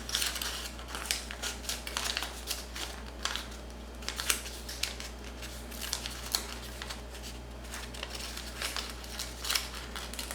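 Paper being creased and folded by hand into an origami pig, with crisp crinkles and sharp snaps of paper coming in close, irregular bursts over a low steady hum.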